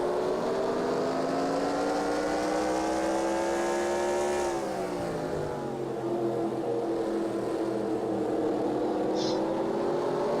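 Stock cars in the NASCAR Racing 2003 simulator drone past during a 250-lap race, a steady loud engine whine with layered harmonics that sweeps down in pitch as cars go by, continuous throughout.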